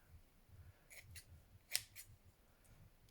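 Scissors snip through a paper strip trimmed from a grungy handmade lapbook, giving about four quiet, crisp cuts in close succession over a soft low background hum.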